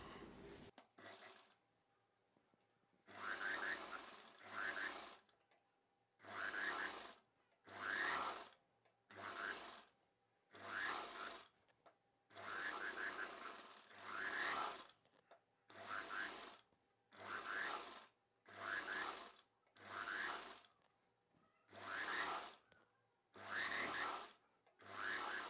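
A sewing machine stitches a double-folded cross piece of fabric for an umbrella dress, running in about sixteen short, even bursts separated by brief pauses, close and alone.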